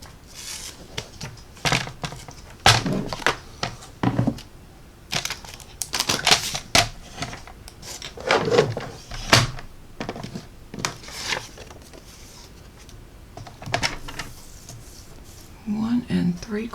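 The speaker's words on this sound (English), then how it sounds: "we are going to cut off 1/4 of an inch off of the end." Cardstock paper being cut on a paper trimmer while making alternative cards, a series of sharp scraping slices and clicks repeating close by, with a person talking between the cuts.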